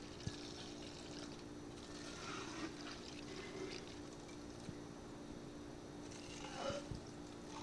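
Beer siphoning through tubing and an inline filter into a keg, a faint steady trickle and gurgle of liquid with a low background hum and a few small knocks.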